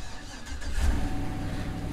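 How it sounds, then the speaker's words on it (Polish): A 6-litre car engine cranks and fires up at an auction yard in Chicago, catching almost instantly with a brief rev before settling into a low, steady idle, close and alone. "A 6-litrówka odpala od strzała."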